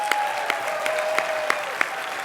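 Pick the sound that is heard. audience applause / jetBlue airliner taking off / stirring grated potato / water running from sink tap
audience applause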